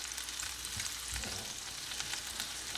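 Shrimp sizzling in melted garlic butter in a pan, a dense continuous hiss with faint crackles and a soft low bump midway, close and unbroken by talk.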